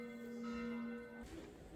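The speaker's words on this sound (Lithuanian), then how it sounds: "Gatvės muzikantų ritmą perima bažnyčios varpai" Church bells ring in a city square in Prague, a faint, sustained metallic tone hanging in the air and blending with distant street noise before fading.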